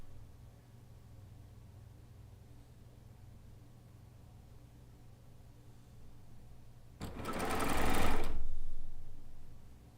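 A Euphoria cover stitch sewing machine, which takes up to three needles, runs in a single loud burst of fast stitching lasting about a second and a half, after a long stretch of quiet low hum.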